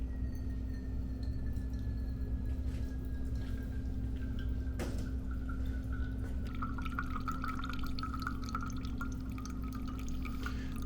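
Brewed coffee trickling slowly from a GSI Rocket coffee maker outdoors, a soft steady dribble of liquid over a constant low hum, with a faint click midway and a brighter splashy patter toward the end.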